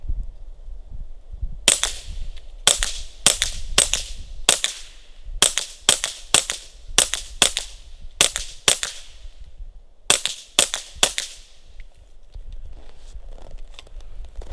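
A suppressed Ruger PC Carbine in 9mm fires 147 grain subsonic handloads, about seventeen sharp, close cracks in uneven quick groups over a low outdoor background.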